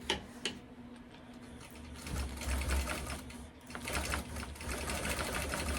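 A Gammill longarm quilting machine stitching around a ruler on a poinsettia quilt, its rapid mechanical ticking running steadily with a low motor hum, close and alone.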